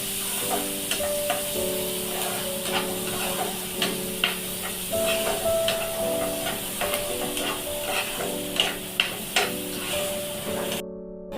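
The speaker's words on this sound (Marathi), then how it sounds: "एक मोठा कांदा घेतलेला आहे तो मी टाकते ह्याच्यात चांगला फ्राय करून घ्यायचा तेलामध्ये" A large chopped onion fries in oil for a dry bombil masala with a continuous crackling sizzle. Frequent stirring clacks and scrapes ring out over it, with no talk.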